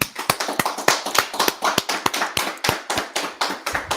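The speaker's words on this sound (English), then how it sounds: "let's clap it up." Steady rhythmic hand clapping, close and fairly loud, with sharp regular claps repeating throughout and no talking.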